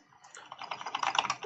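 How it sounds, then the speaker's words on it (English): Rapid keystrokes on an Atari 800XL computer keyboard clatter in a quick, steady burst, close and clear with no voices. "We should probably test the keyboard as well."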